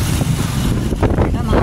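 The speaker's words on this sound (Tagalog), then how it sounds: "Ito, mahangin." Outdoor wind buffets the microphone in Sorsogon, a loud, steady low rumble of gusts that runs throughout with no break.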